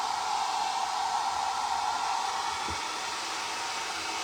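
A hair dryer blows on chicken cracklings, a steady loud whooshing drone running unbroken throughout, with a brief low thump partway through.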